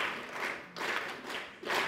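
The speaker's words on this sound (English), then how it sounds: "clap for them." An audience claps for university students, producing a dense, sustained wash of applause that swells in waves and sounds fairly close.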